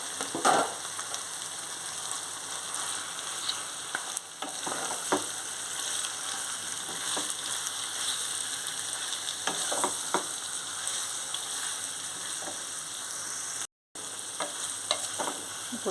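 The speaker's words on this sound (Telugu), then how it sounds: "టమాటీలు సాఫ్ట్గా అయిపోయి ఇప్పుడు మనం చికెన్ వేసుకోవాలి." Chicken marinated with salt, chili powder and turmeric fries with softened tomatoes in a pan for gongura chicken. A steady, quiet sizzle runs throughout with repeated spatula stirs and one brief dropout near the end.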